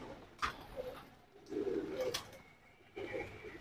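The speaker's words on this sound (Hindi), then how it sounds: "देखिए गंडेदार कबूतर, माशाल्लाह।" Pigeons coo in a loft of ornamental fancy pigeons, soft low throaty bursts repeating three or four times over a few seconds, fairly close, with a faint chirp and light background noise.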